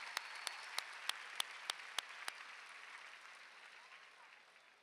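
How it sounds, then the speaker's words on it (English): A crowd at a high school graduation ceremony applauds steadily, with a few sharp, evenly spaced claps standing out near the start before the clapping slowly fades. "Another round of applause for Janice."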